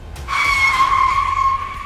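A car brakes hard to a stop with a loud, sustained tire skid that starts suddenly and squeals steadily for well over a second, close and alone without voices.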